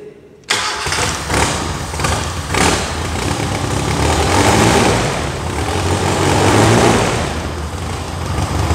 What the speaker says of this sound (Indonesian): sambil kita kasih gas sedikit